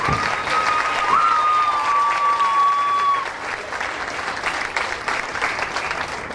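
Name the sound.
fair audience applause for king candidates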